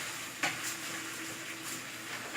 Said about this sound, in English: Mix up the rice.